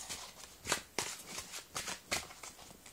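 A deck of playing cards shuffled by hand, a run of soft riffling bursts in quick rhythm, close and fairly quiet.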